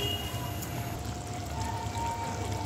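Desi chicken curry bubbling to a boil in a covered pot, a steady close hissing, churning simmer that holds at an even level throughout with no talking.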